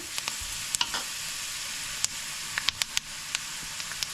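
Apple pickle frying in a pan as chilli powder is stirred in, a steady loud sizzle and hiss with scattered sharp scrapes and clicks of the spoon against the pan.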